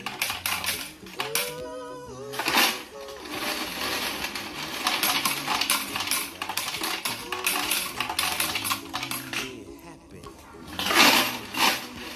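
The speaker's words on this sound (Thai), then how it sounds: "เครื่องจะแยกเหรียญให้เราตามช่องนะครับเหรียญ10เหรียญ5เหรียญบาท เหรียญ2 บาทเหรียญบาท" A coin sorting machine separates Thai coins (10, 5, 2 and 1 baht) into slots, giving a steady rattling, clinking stream of metal coins for several seconds, close and continuous, with someone speaking over it.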